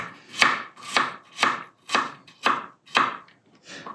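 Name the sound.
chopping garlic cloves with knife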